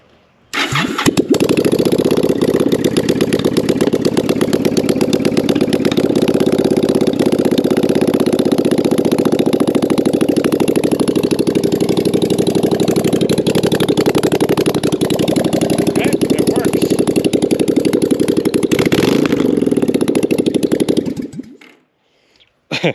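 A motorcycle engine fires up with choke and settles into a loud, steady idle with a rough popping rumble, running continuously before cutting off abruptly near the end.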